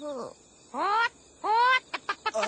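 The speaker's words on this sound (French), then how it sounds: "on dirait que c'est une poule finalement" A chicken clucks in an anime scene: short rising and falling squawks in quick bursts, fairly close and clear, ending in a few rapid clipped clucks.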